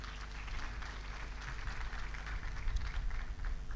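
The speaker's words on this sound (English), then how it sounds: "Let us clap for our President." At the Uganda–Turkey investment, trade and tourism summit, an audience claps for the President. The applause is faint and distant under a low rumbling room noise and continues evenly throughout.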